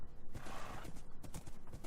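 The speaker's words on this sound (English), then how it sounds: "There is a white horse over here." Hooves of a white horse clip-clop rhythmically in a video game, a quick and fairly close series of steps that runs steadily through the whole clip.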